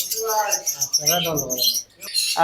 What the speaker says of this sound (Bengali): চমৎকার এক জোড়া রিংনেট পাখি